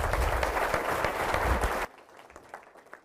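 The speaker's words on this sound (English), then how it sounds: "How about another round of applause?" Applause from an audience, dense and steady clapping that stops abruptly partway through, leaving a quiet room with faint scattered sounds.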